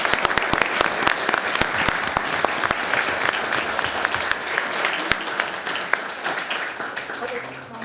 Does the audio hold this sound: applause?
yes